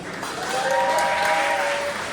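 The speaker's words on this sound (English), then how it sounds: "A big round of applause, please, for Dominic." A wedding crowd claps steadily, a dense, sustained wash of applause with no speech over it.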